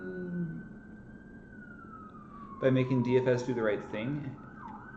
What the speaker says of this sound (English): I don't know if you can hear those sirens.